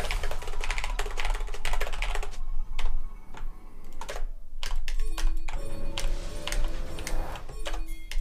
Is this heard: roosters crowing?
no